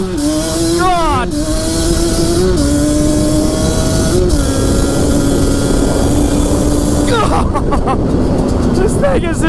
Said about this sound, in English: Do a first gear launch.